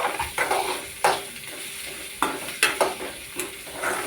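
Onion poha stirred and frying in hot oil in a pan, with a steady sizzle broken by several scraping stirs of the spoon, close and fairly loud, no voices.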